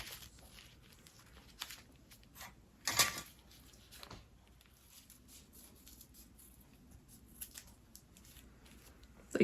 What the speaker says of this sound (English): And then we're going to place our petal like this and cut it out.